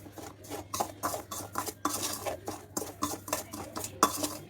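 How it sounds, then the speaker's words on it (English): Metal spoon scraping and stirring rava (semolina) as it roasts in a pan over a low flame, a brisk run of close clinks and scrapes with no voices. "We have to fry this for just 7 minutes so that the raw smell of the rava has to go."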